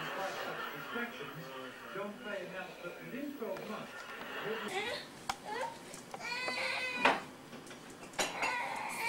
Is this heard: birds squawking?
no